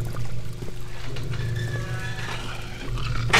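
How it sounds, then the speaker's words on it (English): A monster in the horror video game Amnesia: The Bunker snarls and growls low and steady, a rumbling menacing drone lasting several seconds with a sharper noise burst at the end. "Heard snarling."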